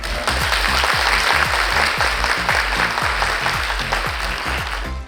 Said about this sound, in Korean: 여러분 큰 박수로 모셔보겠습니다